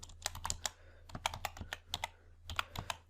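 Rapid keystrokes on a computer keyboard while entering text into an Excel spreadsheet, crisp close clicks arriving in uneven bursts with brief pauses between them.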